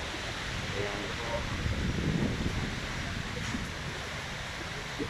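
Steady typhoon wind from Typhoon Rolly rushes through pine trees in the Philippines, with a hiss of stirring branches and needles, continuous and fairly loud throughout, with no voices.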